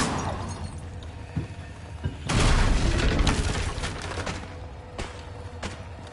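In the Hogwarts Legacy video game, the Incendio fire spell is cast with a sudden loud burst. A crackling, rumbling flare of flame follows, then decays with scattered sharp pops, after a quieter lead-in with a small thud.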